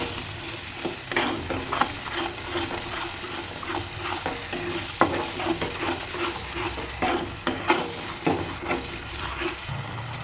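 Spices fry in plenty of oil in a pan for a bhetki fish curry. A steady, close sizzle carries on throughout while a spatula stirs with frequent scraping and tapping strokes, and no one speaks.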